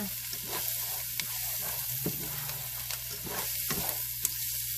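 Garlic frying in a pan for chili, a steady close sizzle broken by scraping clicks as it is stirred, with no one talking.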